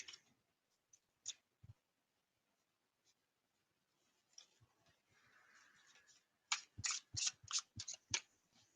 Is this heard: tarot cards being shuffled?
yes